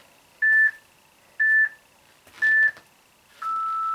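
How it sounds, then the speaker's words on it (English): A workout timer gives its ten-second warning: three short, evenly spaced electronic beeps one second apart, followed by a longer, lower tone, clear against near silence. "Oh, the 10-second beep."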